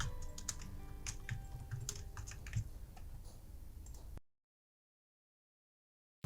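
Typing on a computer keyboard, a steady run of close, crisp key clicks for about four seconds, followed by silence.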